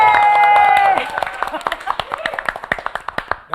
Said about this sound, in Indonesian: pertama gue mau semuanya tepuk tangan untuk Mbak Nusya Bakri